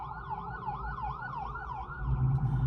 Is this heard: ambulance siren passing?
yes